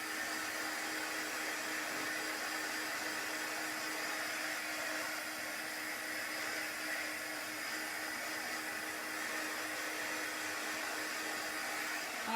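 A dryer blows steadily over chalk paste on a large craft tag, giving a continuous loud airy whoosh with no break for about twelve seconds.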